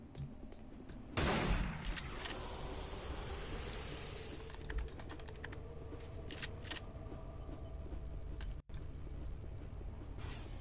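Gunfire in modded Doom 3, with a loud shotgun blast early followed by rapid crackling shots and clicks over a dense, steady game soundscape, close and continuous with no talking.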